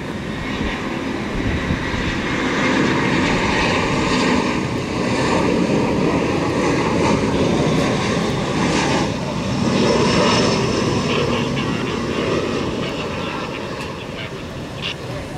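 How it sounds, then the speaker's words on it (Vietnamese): A Vietjet Air Airbus A321 lands on a wet runway at Tan Son Nhat airport, its jet engines producing a loud, steady roar that holds throughout with a broad rushing tone. "Chiếc máy bay Airbus A321 của hãng không Vietjet Air đang bước vào hạ cánh ở đường băng 25 phải."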